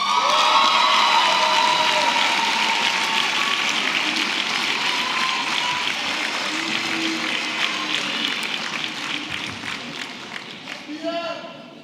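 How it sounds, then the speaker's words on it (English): A graduation ceremony audience applauds a graduate, a broad, sustained wash of many hands clapping with scattered cheers, loud at first and slowly tapering off. "we will give a big round of applause anyway for Zhang Yang"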